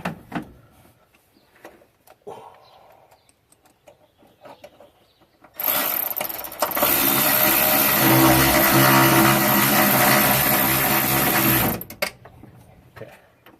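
A vacuum pump pulls a vacuum on a car air conditioning system after a pressure line repair, starting abruptly midway and running as a loud, steady mechanical drone for about six seconds before cutting off, with quiet handling noises around it.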